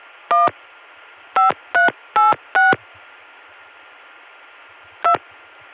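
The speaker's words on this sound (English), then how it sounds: "I'll now demonstrate that by dialing 252-1828." A telephone keypad sends a phone number over a CCSA trunk line as touch-tone DTMF. Six short, clean dual-tone beeps play over a steady hiss: a quick run of five, then a pause and one last tone.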